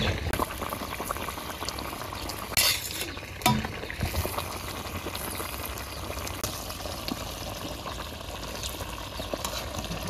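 Water boils vigorously in a pan of snake gourd curry cooked in a simple village kitchen. The bubbling is a continuous close seethe, with a few brief stirring clatters early on.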